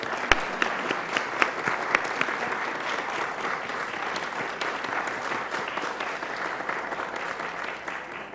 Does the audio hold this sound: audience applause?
yes